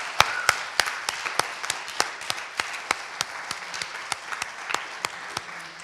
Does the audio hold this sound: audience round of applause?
yes